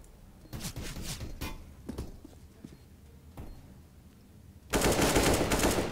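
Bursts of rapid gunfire in Counter-Strike: Global Offensive crackle in short volleys separated by pauses, ending in a loud sustained barrage.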